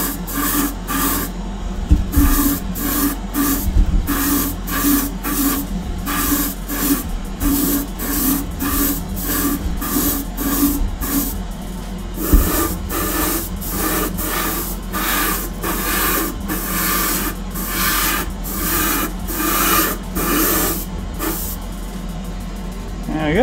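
An airbrush sprays base coat onto Greek style vases in a steady hiss, broken by short, regular bursts and pauses. A faint voice talks underneath now and then.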